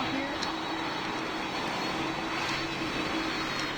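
Steady, droning airplane engine hum with a faint whine as an airliner taxis in the Roblox flight game PTFS, continuous and even in level, with no talk over it.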